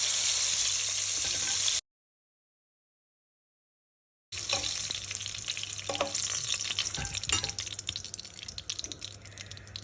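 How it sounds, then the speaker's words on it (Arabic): Meatballs fry in hot oil in a home kitchen, a dense, bright sizzle that cuts out abruptly into silence for a few seconds, then resumes with crackling pops and spatters. "هلا اللحمة طابتة، بدي اقلها"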